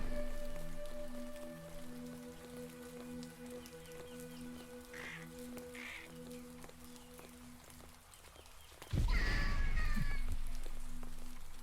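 Rain falling in the video game Rain on Their Parade, soft pattering rain under tonal game music, with a louder burst of splashing rain near the end.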